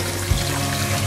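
Cut potatoes for homemade french fries are washed in water, giving a short, close sloshing and splashing with one soft thump, alone and steady.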